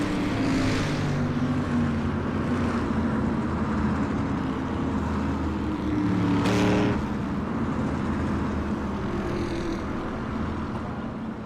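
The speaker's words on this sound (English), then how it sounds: "You see the cars rolling through here." Street stock race cars roll past on the track at Southern National Motorsports Park, a continuous loud engine roar with rising and falling passes, one car sweeping close by midway, heard without talk.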